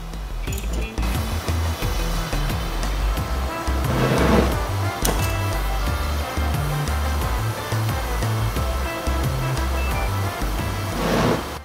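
A homemade propane burner for a beer keg foundry roars loudly and continuously, a powerful, slightly unsteady rushing flame with fluctuating surges, heard close with no talking.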